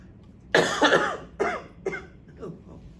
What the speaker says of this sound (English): Throwing out, coughing up a lung here.